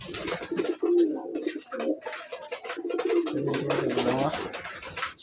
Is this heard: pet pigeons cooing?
yes